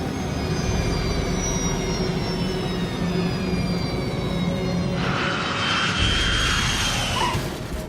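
Airliner jet engines roar steadily as the plane lands and touches down, a loud continuous rumble and whine with a brief surge at touchdown.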